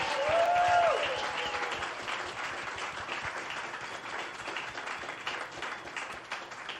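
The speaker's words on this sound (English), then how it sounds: "Let's get a big round of applause for everybody running." A crowd at a live show in Des Moines, Iowa claps and cheers, loud at first with a brief whoop, then the applause gradually thins and fades.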